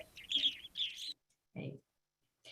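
Recorded birdsong plays as two quick bursts of high chirping twitters, followed by a brief lower call after a pause, faint and short.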